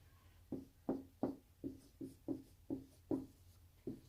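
Pencil writing an answer by hand on paper, a series of about nine short, evenly spaced scratchy strokes, close and clear, with no talking.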